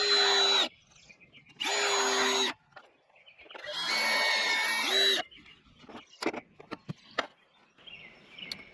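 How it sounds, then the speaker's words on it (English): A power drill boring a 1-inch hole in wood runs in three loud whining bursts, the last one longest, then gives way to scattered clicks, knocks and handling sounds at close range. "As I was drilling this 1-inch hole"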